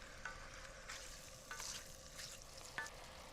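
Gentle, quiet sizzling and bubbling of squid and fennel braising in a pan, with occasional soft stirring clinks; no talking.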